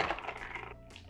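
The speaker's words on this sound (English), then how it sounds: "Add some ice, give it a little stir." Ice cubes clink and rattle briefly as they are stirred into a glass of Sagamore Double Oak rye whiskey with four ounces of apple juice, a short, soft, close sound.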